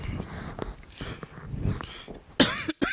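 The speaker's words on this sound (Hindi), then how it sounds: "मुझे खांसी आ रही है" A man with bronchitis coughs during a physics lesson: a few soft throaty coughs and breaths, then a sharp, loud cough burst close to the microphone near the end.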